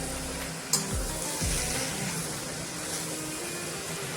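Dill leaves bhaji (shepu) stirred and frying in a pan, a steady soft sizzle under a low hum with a few scraping strokes of the spoon near the start.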